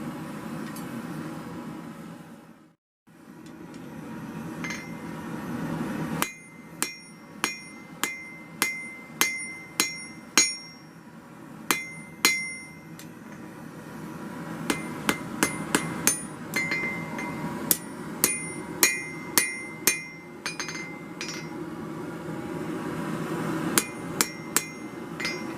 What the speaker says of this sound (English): I'm just planishing, straightening sort of thing.